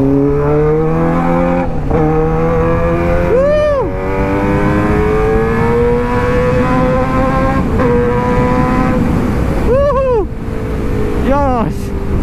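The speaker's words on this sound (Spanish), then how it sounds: "Esta moto despega muy rico." A 2008 Suzuki GSX600R K8 motorcycle is heard from the rider's position with a loud, steady engine whine that climbs in pitch, with several quick gear-change dips along the way and constant wind rush.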